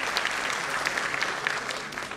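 Audience clapping for a guitarist introduced on stage at a live music function; steady, dense applause fills the whole stretch at an even level, with no talk over it.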